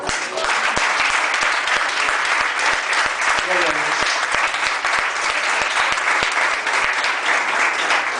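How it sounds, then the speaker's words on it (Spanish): A church congregation breaks into loud, sustained applause, dense clapping continuing steadily throughout with scattered distinct claps standing out, and faint voices mixed in beneath. "dale un aplauso al Señor"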